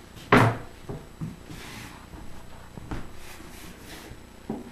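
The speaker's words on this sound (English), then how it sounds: "I'm going to put the door frame in." Wooden door frame being fitted into a kitchen cabinet assembly, one sharp knock followed by softer bumps, scrapes and taps of the panel seating into place, close by in a quiet room.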